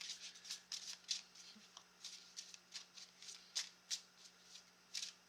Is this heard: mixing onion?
no